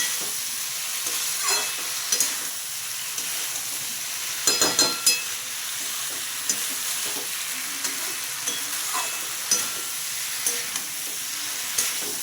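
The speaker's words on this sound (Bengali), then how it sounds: "ভালো করে মশলাটা মিশিয়ে পটলগুলো মশলার সঙ্গে কষিয়ে নিচ্ছি।" Pointed gourd (potol) stir-fries with spices in a pan, giving a continuous close sizzle broken by occasional scrapes and clatters from stirring, with no talking.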